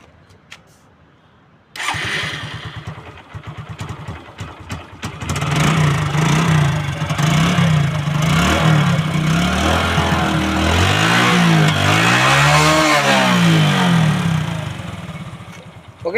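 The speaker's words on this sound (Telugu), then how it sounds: "ఒకసారి బైక్ అయితే స్టార్ట్ అయితే చేసి చూసుకుందాం మనం." A Hero Glamour motorcycle in used condition cranks and fires up nearby, settles into a loud, steady idle, then revs repeatedly in rising and falling surges before easing off, with no talking.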